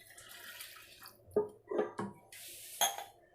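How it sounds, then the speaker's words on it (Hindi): Water poured from a glass into a pot of dal with chili powder, turmeric and salt, heard as a few short splashing and clinking bursts in a quiet kitchen, with no talk. "हम 1 गिलास पानी ऐड करेंगे।"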